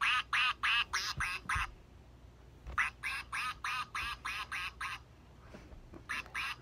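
A plush toy duck quacks in quick rhythmic bursts, clear and close, with a short pause, then another run of squeaky quacks and a final pair.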